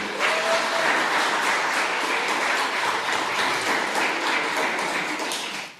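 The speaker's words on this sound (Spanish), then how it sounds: "Denles un aplauso a ellas" Steady applause from an audience of around a hundred people at an indoor gathering, filling the space with continuous dense clapping at even loudness for several seconds before tapering off at the end.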